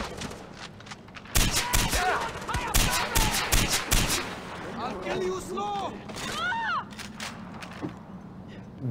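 Gunfire in Far Cry 4: rapid bursts of automatic shots ring out over several seconds, loud and close, mixed with someone shouting and other voices talking over the fire.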